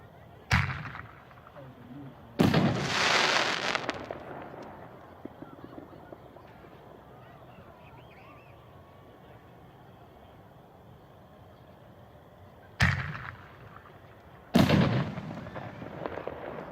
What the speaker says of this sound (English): 5-inch canister artillery shell.